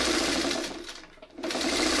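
Sewing machine stitching quilt pieces in a chain, a fast steady whirring hum that briefly drops to near silence as the needle stops down, then resumes at full speed, close and alone.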